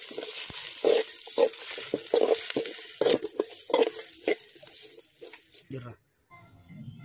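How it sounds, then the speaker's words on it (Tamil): Chopped green chillies and stone-ground ginger garlic paste being sautéed for a country chicken fry, with rhythmic scraping stirs over a light sizzle. The stirs come in close, regular bursts, then fade near the end. "இப்போ நம்ம 2 அரிஞ்ச பச்சை மிளகாயை போட்டு வதக்கிக்கலாம்."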